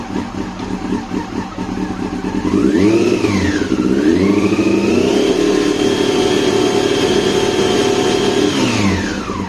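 A car engine is revved from idle up to a steady 4000 rpm during a charging circuit check, its pitch climbing, wavering briefly, then holding a loud sustained drone close by before easing slightly.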